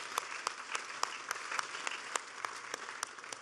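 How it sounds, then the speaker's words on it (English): Clapping from an audience at a presidential speech on the economy, a sparse, regular patter of handclaps at a moderate distance, fairly even in volume across the clip. "Yeah, that's the applause line."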